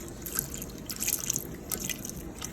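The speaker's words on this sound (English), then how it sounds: "we're gonna go ahead and pour a cup of half and half" Half and half pouring into a cooking pot for a béchamel, a steady soft liquid trickle with small splashy bursts, close and continuous, no talking.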